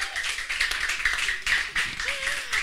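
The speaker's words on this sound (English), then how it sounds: "Give a round of applause for Idia College." Applause from an audience honoring Idia College at a school event, a dense wash of claps running steadily throughout with faint background voices.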